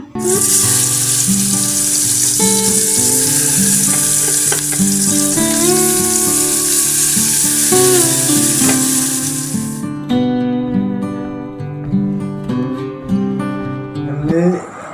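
Fish frying in a pan, a sizzle under a dense, loud layer of background music, and the frying becomes fainter toward the end.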